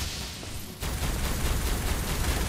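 Rapid, continuous shooting at a griffin in ARK, a loud steady stream of shots that briefly drops out, then resumes and carries on to the end.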